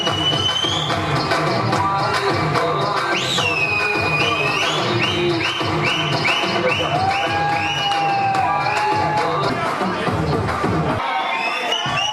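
A crowd cheers and applauds a competition winner being announced as first place, a dense, steady roar of clapping, whoops and shouting voices held throughout, with whistles and children's shouts rising above the noise.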